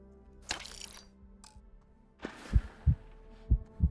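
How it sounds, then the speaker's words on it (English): Heartbeat effect in the game Starfield: a low, thudding pulse of paired beats, steady and close, rising after a few brief clicks and whooshes at the start. "Just have that heartbeat going in my ears."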